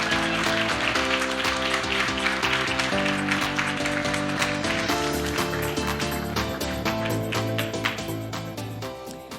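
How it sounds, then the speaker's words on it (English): Clapping from an audience at a winter showcase event greets two presenters as they take the stage, mixed with loud walk-on music and gradually thinning toward the end. "give a massive round of applause to Francesca and Natasha"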